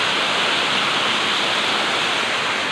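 The Mabonao Falls waterfall roars as a dense, steady rush of falling water, loud and close, with no breaks or voices.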